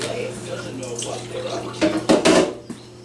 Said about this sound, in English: gonna wash my glove off